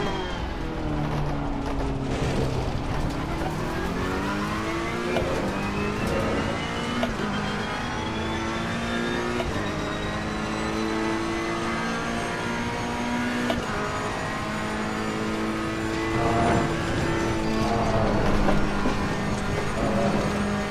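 Ferrari 488 GT3 race car lapping Spa in Assetto Corsa Competizione, its engine note droning steadily and sweeping up and down through gear changes, loud and continuous with no talk over it.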